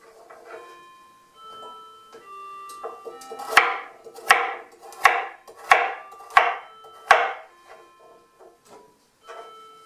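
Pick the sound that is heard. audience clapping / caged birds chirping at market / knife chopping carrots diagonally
knife chopping carrots diagonally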